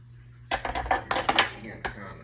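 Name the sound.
spatula spreading pineapple cake frosting in pan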